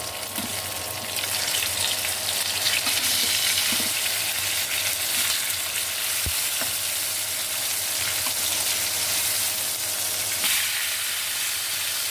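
Katla fish, a large five-kilogram piece, frying on an induction stove, giving a steady, close sizzle and hiss of hot oil that runs without a break, with a few faint clinks and no talking.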